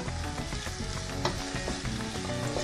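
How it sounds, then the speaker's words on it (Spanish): Onion sautéing slowly in a frying pan, a dense steady sizzle heard close up with occasional stirring clicks, under a busy background. "Ya tenemos aquí la cebolla que se vaya pochando."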